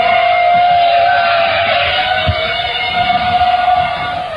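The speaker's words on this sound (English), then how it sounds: "then you will hear the hum of drones in the sky." Drones in the sky make a steady, droning mechanical hum with a constant high whine, unbroken and fairly loud throughout.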